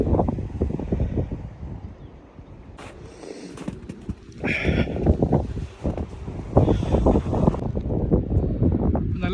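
Gusty wind blows outdoors after a massive snowstorm in Sydney, Canada, buffeting the microphone in uneven rushes, with some rustling and a louder stretch of gusts in the second half.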